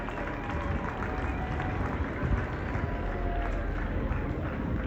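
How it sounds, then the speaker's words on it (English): A roomful of students sitting on chairs applaud their school administration, a steady wash of many hands clapping at once with crowd murmur, fairly loud and continuous throughout. "Why don't we clap for the school administration?"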